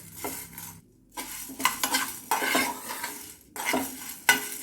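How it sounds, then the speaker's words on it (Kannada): Vegetables and spices for veg pulao frying and being stirred in oil in a pan, with bursts of scraping and sizzling separated by brief pauses, close and moderately loud, no talking. "ಇದೆಲ್ಲದನ್ನು ಒಂದು ಸ್ವಲ್ಪ ಚೆನ್ನಾಗಿ ಫ್ರೈ ಮಾಡಿ"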